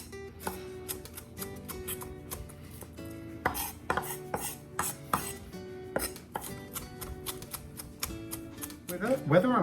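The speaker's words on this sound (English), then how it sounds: "About 2 medium-sized shallots. Again, very, very finely chopped." Knife chopping shallots finely on a board, a fast run of crisp, close taps in bursts, with a few dish and utensil clatters near the end.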